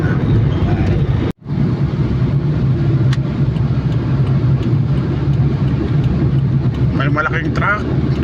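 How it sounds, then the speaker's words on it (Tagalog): A large Shell truck passes on the road, heard as a loud steady engine and tyre rumble from inside a moving vehicle, with a brief dropout and faint voices near the end. "May malaking truck."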